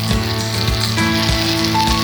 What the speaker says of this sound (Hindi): तो इन्हें कर देते हैं मिक्स और इन्हें पकाएंगे कुछ टाइम।